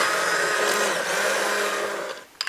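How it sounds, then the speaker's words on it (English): Immersion blender whirring steadily through soup ingredients in a kitchen, a continuous loud motor drone that eases off and stops at the end. "I'm using the immersion blender now"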